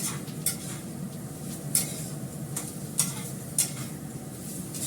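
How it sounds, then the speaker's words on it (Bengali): Food frying in a pan on a home stove, a continuous soft sizzle with a few sharp clinks of a utensil against the pan at regular intervals, no talking. "আমি তোমাদের সঙ্গে কথা বলতে বলতে এটা ভাজা করে নিচ্ছি"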